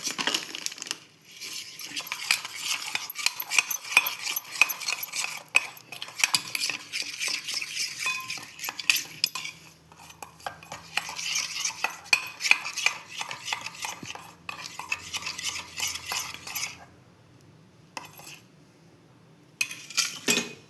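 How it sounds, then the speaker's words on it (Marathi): Spoon stirring ghee and wheat flour together in a bowl, a busy run of scraping and clinking strokes against the bowl, close and steady, with a short pause near the end. "त्यासाठी 2 चमचे तूप घेतले, त्यात 2 चमचे गव्हाचं पीठ टाकतोय. आता आपण एकत्र करून त्याचा साठा बनवून घेऊया."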